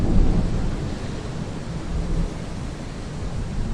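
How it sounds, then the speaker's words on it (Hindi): A thunder sound effect for a horror story set on a rainy night rumbles continuously and fairly loudly, with a broad roar and slight swells in intensity. No voices can be heard. "और बिजली के आवाज़ माहौल को और डरावना बना रही थी।"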